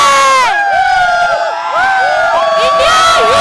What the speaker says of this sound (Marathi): या विजयाचा जल्लोष करत असल्याचं सध्या या ठिकाणी पाहायला मिळतंय